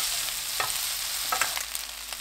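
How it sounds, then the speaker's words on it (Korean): Sausage and potatoes stir-fried in a pan sizzle steadily, with a few scraping stirs of the utensil against the pan over the continuous frying hiss. "소시지 넣고 1분 30초 볶아주세요"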